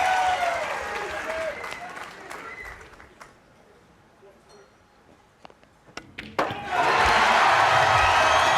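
Crowd at a 2024 Mosconi Cup pool match breaks into loud applause and cheering, swelling at the start, fading to a quiet hall with sparse claps, then erupting again into sustained, close applause.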